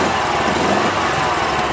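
Small carbureted engine of a 2016 Kawasaki Mule 610 XC Camo utility vehicle idling steadily with the choke off, a continuous close buzzing drone with no talk.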